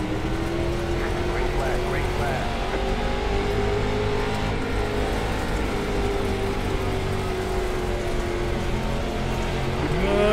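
A limited late model race car engine in iRacing at the dirt track at Charlotte Motor Speedway, a continuous loud droning roar with slowly rising and falling pitch, steady throughout.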